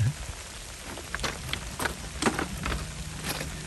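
Steady rain falling outdoors in Thunder Bay, Ontario, a soft continuous patter with scattered nearby drips and splats on surfaces, moderately quiet throughout.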